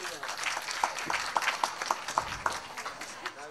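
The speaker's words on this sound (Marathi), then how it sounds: "त्यामुळं पुन्हा एकदा जोरदार टाळ्या" A kirtan audience breaks into applause, with uneven claps coming in bursts under chatter and a speaking voice, all fairly close and moderately loud.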